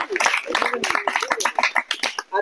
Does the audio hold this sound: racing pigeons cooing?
no